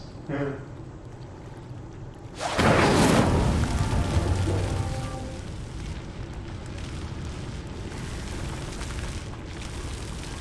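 Incendio fire spell in a video game: after a short quiet stretch, a sudden loud whoosh of flame bursts up and settles into a sustained roaring crackle of fire that slowly fades.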